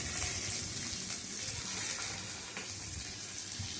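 Amaranth leaves (thotakura) fry in a pan with garlic, giving a steady, dense sizzle and crackle that holds evenly throughout, with no talking.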